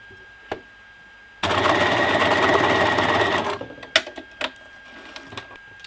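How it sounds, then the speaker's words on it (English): A sewing machine running a single straight stitch on bra strap elastic, a steady, close mechanical whir for about two seconds, then scattered clicks and handling noises. "I'm just going to use a single straight stitch here."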